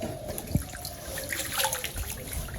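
Two ducks bathe in a small container of water, giving soft, irregular splashes and light dribbling close by, with no voices.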